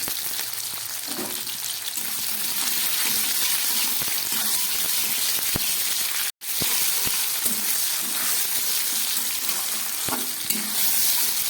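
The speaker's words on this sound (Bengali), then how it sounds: "কয়েক টুকরো ফুলকপি, সামান্য একটু ক্যাপসিকাম আর একটু টমেটো ভেজে নিচ্ছি।" Cauliflower pieces, a little capsicum and tomato frying in a hot pan with salt, a steady close sizzle punctuated by stirring clicks and scrapes, with one brief dropout midway.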